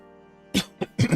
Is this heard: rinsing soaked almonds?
no